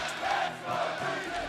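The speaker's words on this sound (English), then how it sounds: "So much cheering." A large crowd cheers at an esports match, a dense and steady roar of many voices that fills the whole short stretch with no break.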